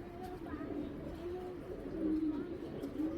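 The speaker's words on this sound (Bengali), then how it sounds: "একদম দুধ চোখের, হ্যাঁ দুধ পাথর চোখের কবুতরটা" Pigeons coo softly in low, rolling calls at a pigeon seller's collection, faint and continuous with a little background noise.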